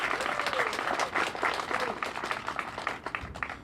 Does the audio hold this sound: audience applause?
yes